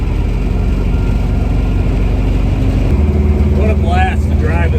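A 1970 Chevrolet Nova with a 383 stroker engine cruises down the road, its low engine drone steady inside the cabin, with a voice talking over it near the end.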